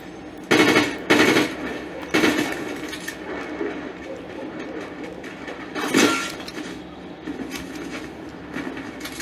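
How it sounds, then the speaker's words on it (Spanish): Gunfire rings out in the video game Fortnite as several sharp bursts spaced a few seconds apart, loud and punchy against a low steady background. "¿Te das cuenta que me disparan mientras trato de entender?"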